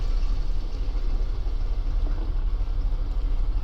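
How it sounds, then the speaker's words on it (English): Aircraft engine running steadily in the X-Plane 11 flight simulator, a loud, continuous low rumbling drone with no breaks and no talking over it. "we did get a good engine start, so we're good to go there"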